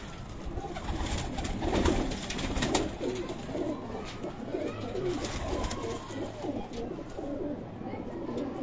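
Pigeons on a rooftop coo in soft, repeated throaty phrases up close, with continuous low burbling and a few wing flutters in the background.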